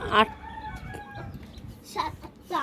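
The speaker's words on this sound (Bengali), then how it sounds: "এই দেখো আমাদের মুরগির বাচ্চা, এই মুরগিটা বাচ্চা দিয়েছে।" A few clucks from a mother hen with chicks nearby, short and scattered, with soft background noise between them.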